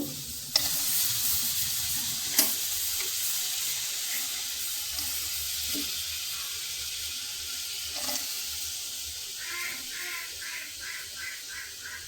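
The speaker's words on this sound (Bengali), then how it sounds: "এবার কড়াইয়ে দিয়ে দিব আমি পরিমাণ মতো রসুন" Chopped garlic sizzling steadily in hot oil in a wok while dried jute leaves are being cooked, a continuous close frying hiss with a few clinks and faint bubbling pops toward the end, no talking.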